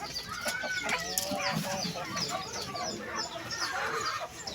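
Chickens cluck and squawk in a farm coop setting, a dense overlapping chorus of many birds close by, busy and continuous throughout with no clear pauses.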